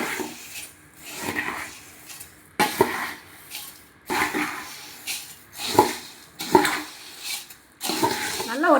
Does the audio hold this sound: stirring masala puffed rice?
yes